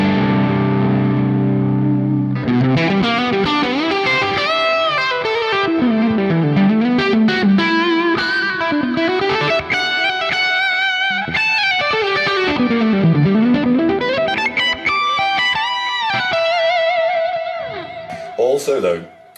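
Electric guitar played through a crunch amp with delay and reverb from the Archetype: Nolly plugin, loud and distorted with bending, sweeping melodic lines and lush echoing tails, ringing out alone.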